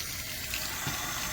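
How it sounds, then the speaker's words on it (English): Water runs from a hose during a leak test on the pump of a Coleman SaluSpa Sicily AirJet inflatable hot tub, a steady close hissing and splashing flow without a break. "Water's running."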